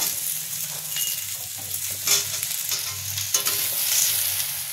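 Mixed vegetables, including pumpkin and eggplant, fry together in a pan with a steady sizzle, punctuated by intermittent stirring scrapes and spatula taps.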